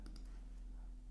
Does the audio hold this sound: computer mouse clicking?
yes